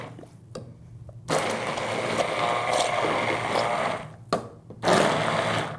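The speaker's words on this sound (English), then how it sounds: "we're gonna bring in the immersion blender now, and we're gonna make a puree." An immersion blender purees a soup of liver pieces seasoned with sea salt, whirring in loud sustained bursts that stop and restart, with quieter gaps between runs.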